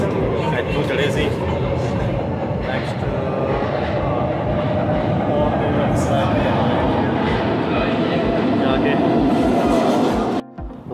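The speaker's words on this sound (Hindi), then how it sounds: "तो जी ये ग्रीनलैंड वाली ट्रेन पकड़ ली, इतों चढ़े सी" Paris metro train in motion heard from inside the carriage, a loud continuous rumble with clattering wheel noise and faint squeals, and voices talking through it until it cuts off near the end.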